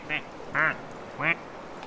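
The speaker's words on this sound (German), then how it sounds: "Wir können auch als Ente sprechen." Three squeaky rubber-duck quacks from Plastik Duck Simulator, evenly spaced and close, each a short bright honk over faint background noise.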